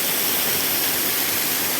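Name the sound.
waterfall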